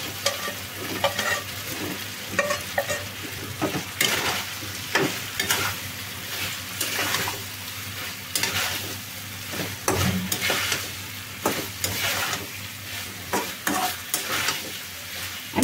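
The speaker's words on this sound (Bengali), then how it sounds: "এখন আমি এখানে ভাজা মাংসটা দিয়ে দিচ্ছি।" Fried chicken stirred into a spice masala in a pan for a chicken tomato curry, loud close sizzling with repeated scraping strokes of a spoon throughout, no voices.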